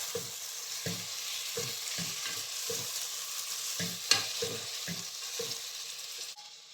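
Steady sizzling from a hot pot of chicken for biryani with a spoon scraping and stirring in regular strokes, close by, with one sharper clink partway through.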